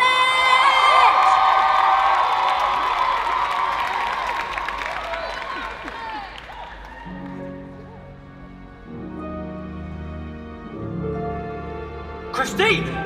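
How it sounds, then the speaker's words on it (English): Audience at a Move It 2022 showcase theatre cheers and applauds loudly for a Bird College musical theatre act, with whoops and crowd noise that fade after several seconds into quieter sounds and a brief burst near the end. "So please, massive round of applause for Bird College!"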